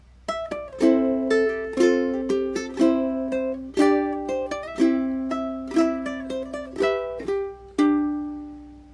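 Plucked ukulele notes picked in a gentle fingerstyle pattern playing 'The Parting Glass', bright and close, each note ringing and fading in a steady rhythm with no talking.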